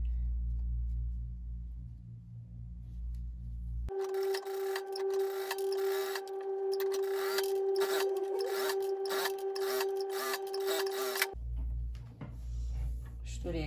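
A sewing machine stitches a patch onto a shirt's button placket, running with a steady motor whine and rapid needle clatter for several seconds, set between quieter stretches of low background hum.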